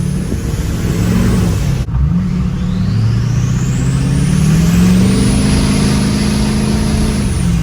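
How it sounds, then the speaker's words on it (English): An LMM Duramax diesel pickup fitted with a loud aftermarket turbo revs up close, with a deep engine drone, a rising turbo whistle spooling up and a brief hiss as it lets off. "So listen to that turbo, guys."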